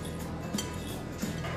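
A spoon clinks against a bowl while garam masala and other spice powders are mixed, giving two light taps over a soft scraping bed.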